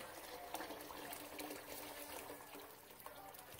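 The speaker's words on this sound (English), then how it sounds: "We're going to add in about 8 cups of water into our yellow split pea soup." Water pours steadily into a pot of yellow split pea soup, a faint continuous splashing trickle lasting a few seconds with no voices over it.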